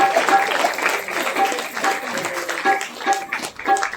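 An audience at a temple katha during a Kartik festival claps warmly, a sustained patter of many hands that rises and dips in waves, with a voice heard over it.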